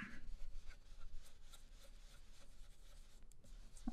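Ink is blended onto card paper during card-making: a soft, steady rubbing and scrubbing close by, quiet and continuous, with no talk over it.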